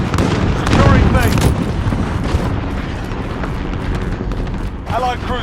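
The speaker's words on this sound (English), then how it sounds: "Enemy cluster strike incoming." Cluster strike explosions in a shooter video game: a dense barrage of booms and gunfire rumble, heaviest near the start and rolling on continuously, with radio-style game voice callouts mixed in.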